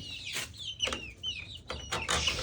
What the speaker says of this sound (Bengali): সকাল সকাল একটু আমার মুরগিগুলা ছেড়ে দিই।